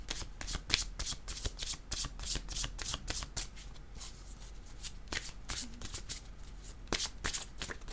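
Tarot cards being shuffled by hand, a close, dry run of rapid riffling flicks and soft slaps repeating throughout, with no talk.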